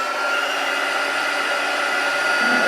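Hair dryer blowing steadily on a small tin craft bug, a loud continuous airy whir at close range that holds an even tone throughout, with no talking.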